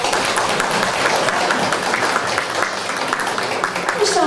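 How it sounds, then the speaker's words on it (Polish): Dense, steady applause from a crowd fills the room throughout at an Easter gathering, with voices mixed in. "I tutaj duże brawa."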